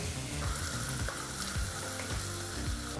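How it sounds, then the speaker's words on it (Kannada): Onion frying over a medium flame for a homemade gravy, a steady hiss with repeated rhythmic scraping and stirring strokes throughout, close and moderately loud. "ಈ ಎಲ್ಲ ಪದಾರ್ಥನೂ ಮೀಡಿಯಂ ಫ್ಲೇಮ್ನಲ್ಲೇ ಮೂರರಿಂದ ನಾಲ್ಕು ನಿಮಿಷ ಫ್ರೈ ಮಾಡ್ಕೋಬೇಕು"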